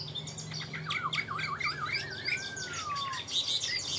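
A Chinese hwamei songbird sings from a hand-carried cage, pouring out loud, close warbling trills, rising and falling whistles and sharp chirps in a continuous run over a low background hum.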